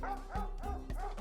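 A dog in a horror video game barks three times at a steady rhythm, each bark loud and close over a constant background hum.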